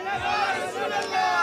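A large crowd at an urs celebration roars back a Naara-e-Risalat chant, a dense wall of many voices shouting together, loud and sustained throughout.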